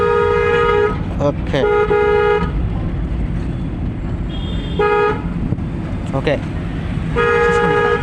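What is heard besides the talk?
car horn honking while driving in city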